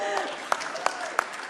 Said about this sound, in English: Oh, yeah, you can applaud.